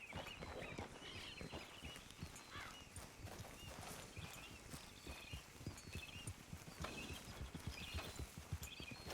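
Horse hooves clip-clop at a steady walking pace in Red Dead Redemption 2, with a faint snort or whinny now and then over a quiet outdoor game ambience.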